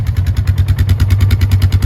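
Steady idle of a Polaris Sportsman 500 ATV engine, a loud, close, rapid thumping putter with no voices.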